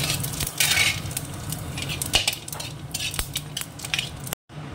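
Cumin seeds and dried red chillies hitting hot oil after potatoes were fried, a crackling sizzle broken by sharp spoon-on-pan clinks and scraping, close by, cutting out briefly near the end.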